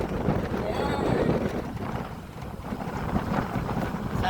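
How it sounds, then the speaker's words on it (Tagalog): Wind buffets the open rear of a moving vehicle, a steady roar and rumble that fills the recording, with road noise underneath. "Mahangin."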